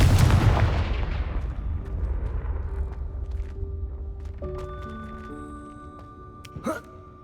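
A Confringo blasting spell in Hogwarts Legacy erupts in a loud explosive boom that rumbles and decays over several seconds, followed by faint magical tones and a short burst near the end.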